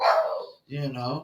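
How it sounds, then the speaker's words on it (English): A pet dog barks in two short bursts, the second with a lower, harmonic tone, close to the microphone, with a voice speaking briefly alongside. "that's my dog barking."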